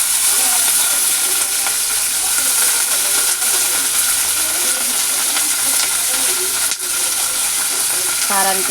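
Fenugreek seeds and spices fry in hot oil in a pan, a dense, steady loud sizzle and crackle with occasional stirring clinks close by, continuous throughout with no talk.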